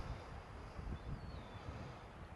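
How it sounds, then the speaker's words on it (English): A slight wind blows across open ground outdoors at a Roman fort, a faint, steady low rushing of air against the microphone with no voices. "it's a relatively nice day. Slight wind again"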